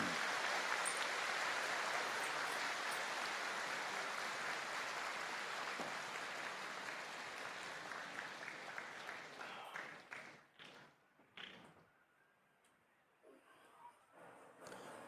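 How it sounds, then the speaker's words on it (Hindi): An audience at a spiritual gathering claps loudly in honour of their ancestors, dense sustained applause lasting about ten seconds before thinning into scattered claps and near silence, then a faint rise at the end. "सभी लोग अपने अपने पितरों के लिए एक बार जोरदार तालियां बजा दें"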